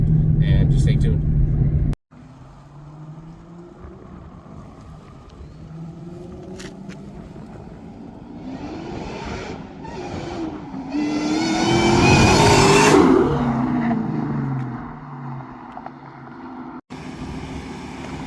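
A 2003 Cobra with a new pulley accelerates hard, its exhaust note rising to a loud roaring peak and then fading. Voices and wind noise are heard beside it.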